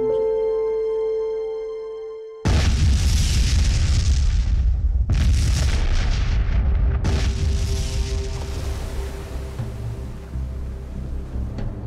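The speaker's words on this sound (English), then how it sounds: "The explosion, in peeling off the cover of the dam to uncover the old concrete layer, has revealed a significant issue" Controlled blast peeling the cover off a dam to expose old concrete, a sudden deep booming explosion followed by rumbling debris and further heavy bursts, loud and close with a long roaring tail.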